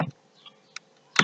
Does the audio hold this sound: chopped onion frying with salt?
no